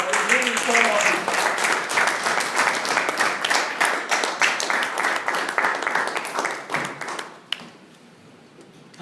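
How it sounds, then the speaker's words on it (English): Audience applause for a newly inducted officer at a formal meeting, a dense burst of many hands clapping loudly and steadily before tapering off near the end. "let us give a thunderous round of applause for the new informed officer"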